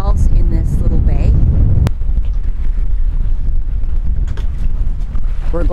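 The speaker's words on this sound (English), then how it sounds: "We're going to get gusts of gale force winds." Strong gusty wind buffets a sailboat anchored alone in a small Bahamas bay, a loud continuous low roar of wind on the microphone with a brief sharp click near the two-second mark.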